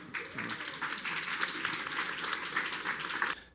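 Standing applause for actor Danny Glover at a Jackson City Council meeting, a dense sustained crowd clapping that swells quickly and holds steady at a loud, close level, with no talk.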